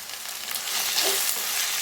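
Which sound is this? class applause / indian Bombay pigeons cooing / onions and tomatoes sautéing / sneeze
onions and tomatoes sautéing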